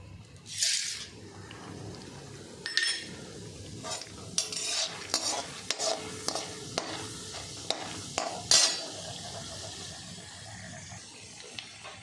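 Chana dal sizzles in a hot pan while a spoon scrapes and stirs, with clinks of metal and a steady frying hiss underneath, close by.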